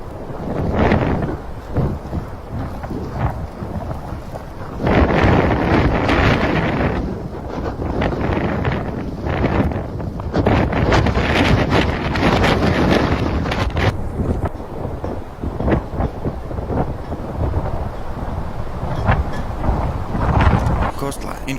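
Blizzard wind roars during a Buffalo snowstorm, a heavy continuous buffeting rush that batters the microphone in gusts, with a voice talking over it.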